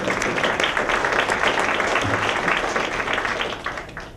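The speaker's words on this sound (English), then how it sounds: "Let's give them a little round of applause." At a career network launch event, an audience claps in a steady, moderately loud round of applause that tapers off near the end.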